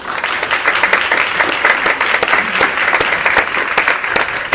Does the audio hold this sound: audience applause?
yes